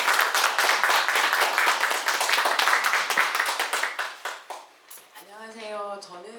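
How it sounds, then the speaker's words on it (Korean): Clapping from an audience at a community garden results-sharing event, brisk and fairly close, thinning and fading after a few seconds before a voice begins speaking. "우리 우레와 같은 박수를"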